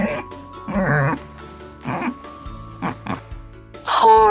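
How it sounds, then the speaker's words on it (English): A pig oinks in a series of short, rough grunts with pauses between them, close and fairly loud, ending in a sharper squeal. "pig"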